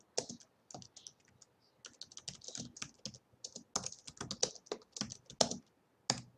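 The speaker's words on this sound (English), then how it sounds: "type something on my paper, and this is the start of the document" Computer keyboard typing into a Google Docs document, a steady run of close, crisp key clicks with short pauses between bursts, no voices.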